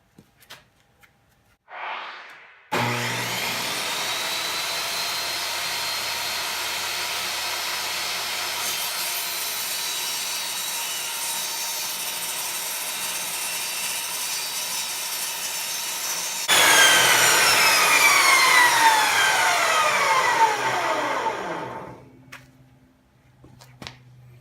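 A power saw cuts wood for a workbench in a long, steady, loud whine of about fourteen seconds, which rises in pitch near the end before spinning down and stopping.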